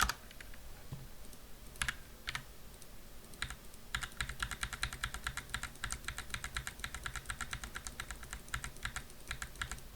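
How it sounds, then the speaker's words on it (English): Rapid typing of chat messages on a computer keyboard, a steady run of close, crisp key clicks with brief pauses and no talking. "if we type a lot of messages"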